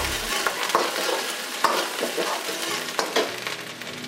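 A spoonful of ginger fries lightly in oil on slow-medium heat for dal makhani and pepper paneer. Close, steady sizzling is broken by several sharp scraping stirs of a utensil against the pan.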